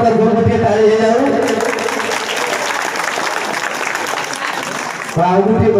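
A crowd at a Republic Day school celebration claps steadily for several seconds, dense and sustained applause that cuts off abruptly near the end as a voice returns.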